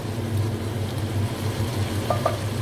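Veal osso buco sizzles gently in a Cookeo pot with canned tomatoes added, a soft steady frying crackle over a low hum, with a couple of small clinks near the end.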